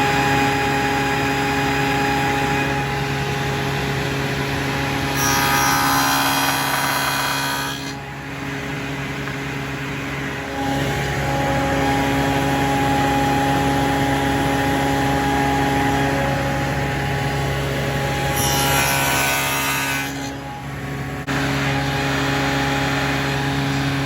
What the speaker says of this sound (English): And there it is, a tenon cut on a table saw with a dado stack in 4 passes.